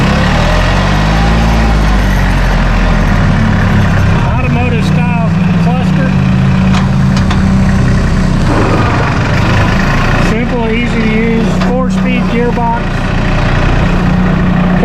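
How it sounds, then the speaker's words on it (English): A Massey Ferguson 1825E synchro shuttle compact tractor with a 24 hp engine idles nearby in a steady, low, even rumble that runs throughout, while someone talks over it. "Listen to how quiet that engine is."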